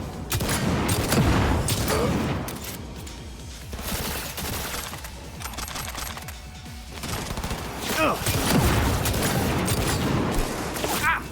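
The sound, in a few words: explosive-shot gunfire in Cyberpunk 2077 Phantom Liberty video game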